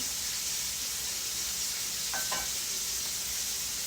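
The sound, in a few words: shrimp pan searing in scallop juice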